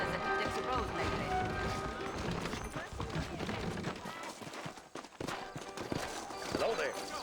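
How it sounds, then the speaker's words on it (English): Horses' hooves clip-clopping in the Red Dead Redemption video game, in a frontier town setting, a busy patter of hoofbeats and movement heard under a man's speech. "I got the horses saddled up and ready out front."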